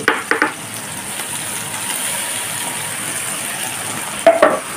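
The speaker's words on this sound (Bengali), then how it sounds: "যতক্ষণ না মশলাটার কাঁচা গন্ধ যাচ্ছে ততক্ষণ এইভাবে কষতে থাকবো।" A ginger, garlic, onion, capsicum and green chilli paste sizzles in a hot pan with softened capsicum for chilli chicken, a steady close frying hiss broken by a few scraping stirs at the start and end.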